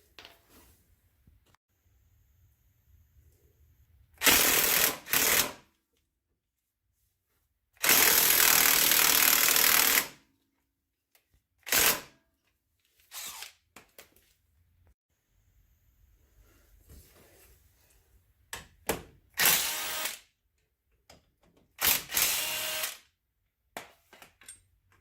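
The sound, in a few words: cordless impact wrench removing RZR 570 hubs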